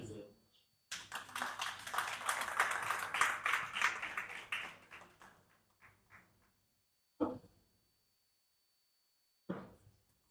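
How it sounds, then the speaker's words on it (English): An audience at a Nigerian autism inclusion gathering claps after a speech, a burst of applause that rises, holds and fades over a few seconds, followed by scattered later claps and nearby talk. "Please, another round of applause"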